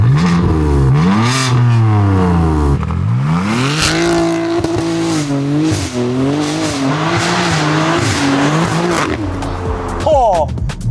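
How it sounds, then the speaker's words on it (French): A BMW M3 G80 with an aftermarket exhaust, loud and close, revs repeatedly, engine pitch swooping up and down through several throttle blips, with a sharp high rise near the end. "petite ligne d'échappement qui est pas d'origine, qui fait un super bruit"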